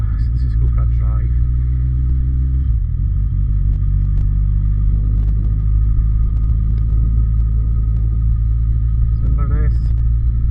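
A motorbike rides through Elgin town, its engine a steady low rumble that holds throughout, loud and close, with passing road noise; a voice talks over it.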